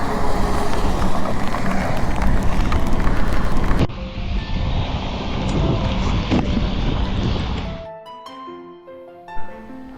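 Heavy rain on a road trip from Amritsar to Srinagar, a loud roaring wash of rain and wind for about eight seconds that then drops away to a quieter background with faint tones.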